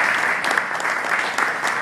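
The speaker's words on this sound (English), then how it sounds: "let's give the mayor an applause for that one." Audience applause for the mayor at a public meeting, a steady wash of many hands clapping close and fairly loud, with a few sharper claps standing out, lasting about two seconds.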